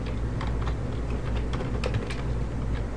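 Steady, close computer keyboard typing while code is entered, a quick, irregular run of light key clicks over a constant low background hum.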